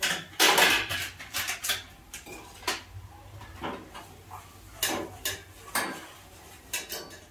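A thin steel kadai being lifted off a gas stove and handled: close, sharp metallic clanks and scrapes of steel against the burner grate and utensils, arriving in irregular bursts with quiet gaps between, no voices.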